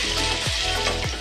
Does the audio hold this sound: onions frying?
yes